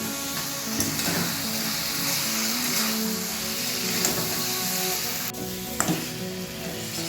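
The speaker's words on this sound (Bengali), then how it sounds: "এবার ভেজে রাখা সিম আর আলুটাকে দিয়ে দিলাম। একসাথে আবারও একটু এটাকে আমি কষিয়ে নেব।" Fried flat beans and potatoes being sautéed with spiced masala in an oily pan, giving a steady close sizzle and frying crackle with occasional stirring scrapes throughout, no voices.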